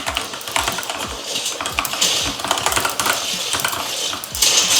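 Fast, continuous typing on a mechanical gaming keyboard, with dense clicky keystrokes close to the microphone and no voices.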